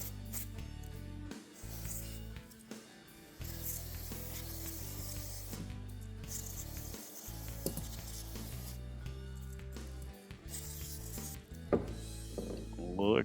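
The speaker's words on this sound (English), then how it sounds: "We're going to continue to spray with brake clean." Brake cleaner sprays onto a travel trailer wheel bearing assembly in a steady, close hiss that is broken by short pauses, with faint rubbing and clinking of parts near the end.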